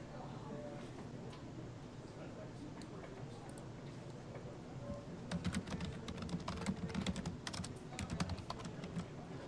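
Computer keyboard keys clatter in quick, irregular bursts, faint and close, with a low murmur of background voices and room noise throughout.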